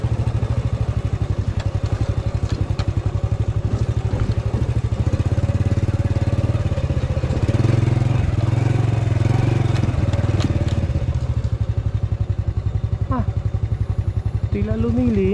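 A motorcycle descends slowly down a mountain road on Mount Balagbag in Rizal, its engine a steady low rumble throughout with rattles and scrapes of the bike over rough ground, close and continuous.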